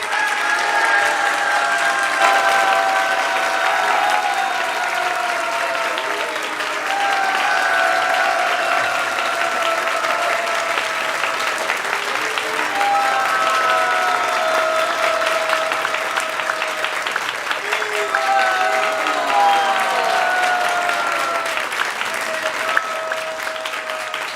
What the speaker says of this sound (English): Maharaj deserves a big round of applause for such a wonderful class.